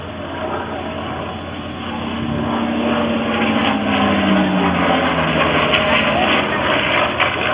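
A Skyraider propeller airplane flies at an aerobatics world championship air show at Châteauroux, its steady loud engine drone rising and holding throughout as it passes near.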